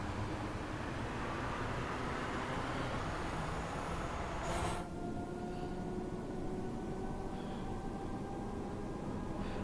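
A Class 314 electric commuter train runs on the Cathcart Circle line in Glasgow, heard from inside as a steady rumbling drone with rail noise and a brief sharp clack near the middle, no voices.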